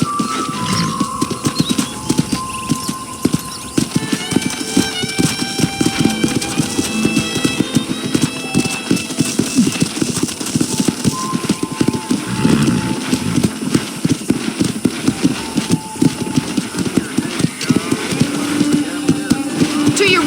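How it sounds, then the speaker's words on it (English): Rapid, rhythmic clip-clop of horse hooves in the video game Red Dead Redemption throughout, loud and close, with music playing and occasional voices over it. "let's see if you can still ride a horse."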